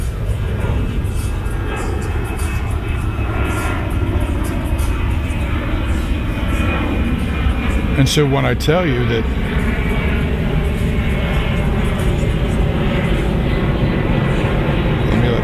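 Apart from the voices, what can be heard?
airplane flying overhead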